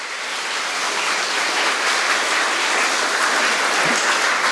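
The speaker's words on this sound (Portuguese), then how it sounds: "Nós mandamos um forte aplauso." Steady, full applause from an audience at a school ceremony at Coromoto College, an even wash of clapping that holds at the same loudness from start to finish with no voices on top.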